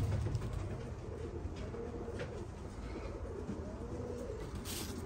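Pigeons coo softly over a steady low background hum, faint and continuous with no talking.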